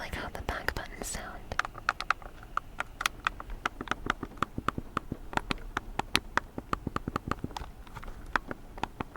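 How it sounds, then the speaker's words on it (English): A rapid series of sharp plastic clicks from controller back buttons, pressed repeatedly in an uneven rhythm, close up, with a soft whisper near the start. "I like how the back buttons sound."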